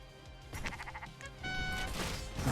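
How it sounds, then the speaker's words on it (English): Game-style sheep bleats, a couple of short wavering calls close up, over a low steady background of game sound, with no talking. "And I'll just give them some sheep."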